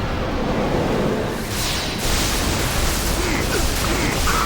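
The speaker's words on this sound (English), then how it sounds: "Photon spray." Photon Spray attack effect from Final Fantasy X during a boss battle, a dense, loud burst of bright crackling noise that flares around the midpoint and holds steady, with no talk over it.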